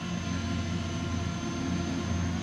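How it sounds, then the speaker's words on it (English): A Fimi X8 Mini drone hovers and drifts slightly in flight outdoors, giving a steady, close propeller hum with a thin high whine that holds evenly throughout with no talk. "Drone is moving around just a little"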